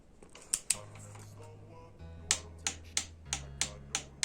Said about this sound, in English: grab your torque wrench, set it to 14 foot-pounds, and